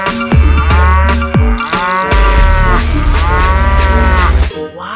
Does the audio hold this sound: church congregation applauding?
no